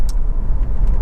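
Morning rush-hour road traffic rumbles past at close range, a loud, continuous low drone of passing cars with a brief hiss of tyres or brakes.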